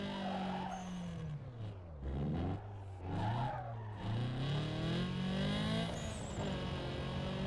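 A Volkswagen Golf drifting in the Need for Speed Underground 2 racing game, with a steady engine drone and long, loud tire squeals that rise and fall across repeated slides.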